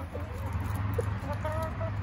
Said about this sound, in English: You're such a naughty chicken.